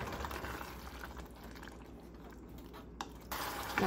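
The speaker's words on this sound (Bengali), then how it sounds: "জলটাও দিয়ে দিচ্ছি এবারে।" Water poured into a cooking pot of simmering meat curry with fennel powder, a steady soft broadband wash and trickle that holds fairly even, with a brief stronger splash near the end.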